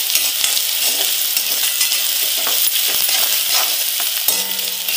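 Onions and capsicum sautéing in a pan for Gobi Manchurian, a steady close sizzle and crackle of frying with occasional scrapes and clinks of a stirring utensil, no talking.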